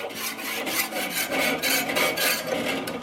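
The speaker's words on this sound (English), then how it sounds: "Scrape some of that hard stuff off there." Hard residue being scraped off a Weber kettle grill, a series of close, rhythmic rasping strokes repeating steadily for about three seconds with no talking.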